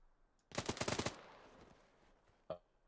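A quick volley of about six gunshots cracks out in a video game, followed by a fading tail and one more faint shot a moment later; no voices.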